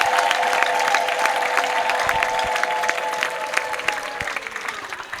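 A church congregation applauds during a prayer service, sustained, fairly loud clapping from many people, with a steady tone ringing beneath it and a few sharper claps standing out as it slowly eases.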